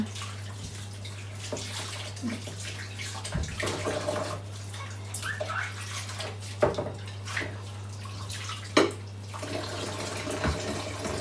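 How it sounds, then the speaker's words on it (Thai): Cups and dishes are washed under a running tap in a small kitchen, a steady stream of water with occasional clinks and knocks of crockery and a low constant hum beneath. "ล้างถ้วยล้างชาม"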